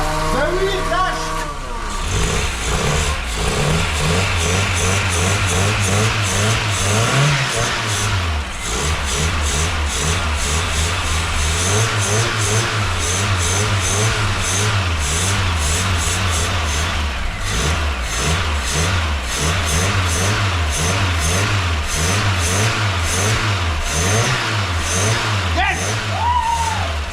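A Volkswagen Golf II engine, just back from carburettor work, revs up and down repeatedly in loud, close surges over a rough idle, with voices talking over it throughout.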